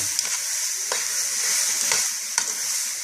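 Celery and onions sizzle steadily in a hot pan for a beef curry stew, a close, continuous frying hiss broken by a few soft clicks from stirring, with no talking.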